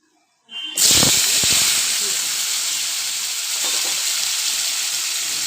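Chicken kofta frying in hot oil seasoned with turmeric, a loud steady sizzle and hiss that bursts in as the pieces hit the pan and keeps going, with a few clatters near the start.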